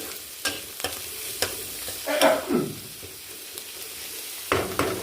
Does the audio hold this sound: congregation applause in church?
no